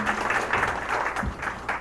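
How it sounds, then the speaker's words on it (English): A crowd at a candidate forum applauds with steady, dense clapping that holds at an even level for the whole stretch. "Let's give them a round of applause."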